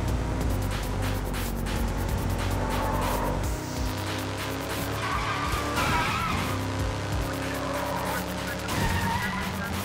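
A race car in the video game Sleeping Dogs revs hard as its tires squeal through repeated skids, the engine drone rising and falling under loud screeches and a brief voice in the background.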